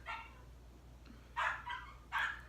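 A dog barks three times in quick succession, sharp and fairly close, over a low steady background hum.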